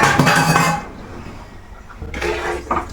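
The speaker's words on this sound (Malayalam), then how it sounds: "ചീനച്ചട്ടി വെച്ച് കൊടുത്തേക്കാം നമുക്ക്" A metal wok (cheenachatti) clatters onto a kitchen stove while a curry is being made, with a burst of clanking at the start and another clatter of pans near the end, and no talk.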